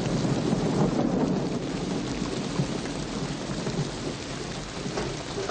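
Heavy rain pours steadily with thunder rumbling through it, the storm loud and continuous as water leaks through a roof, with no talking.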